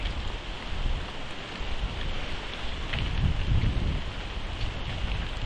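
Heavy typhoon rain pours steadily while strong wind roars and gusts, a loud, dense and continuous wash of storm noise with no voices.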